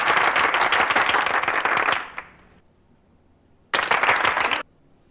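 Audience applause after a political conversation event, a dense burst of clapping lasting about two seconds that fades out, then a second short, loud burst of clapping after a pause.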